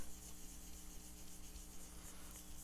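Steady close rubbing of finish into a used wooden guitar neck, a continuous soft scraping with a faint low hum beneath it.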